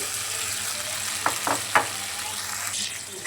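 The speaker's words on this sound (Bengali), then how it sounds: "আমি পেঁয়াজটাকে এখন ভালো করে ভেজে নেব" Steady oily sizzle of onions frying for a chicken curry fills the background, with three quick scraping stir strokes partway through.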